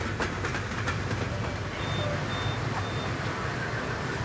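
A passenger train in Chihuahua, Mexico rumbles steadily along with a continuous low roar and rattling, heard from inside the carriage, with a few faint high beeps partway through.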